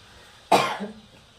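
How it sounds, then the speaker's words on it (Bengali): A single sharp cough from someone with a cold, close and fairly loud, a brief burst that trails off with a short voiced tail, with no talking around it. "খুব ঠান্ডা লেগেছে মনে হচ্ছে কাশি হচ্ছে খালি"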